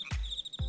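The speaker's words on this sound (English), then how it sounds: "An orchestra of frog chirps and the endless hum of crickets reverberates through the honeysuckle dusk" Crickets chirp on a summer night at dusk, with two short bursts over a steady faint high trill, quiet and close.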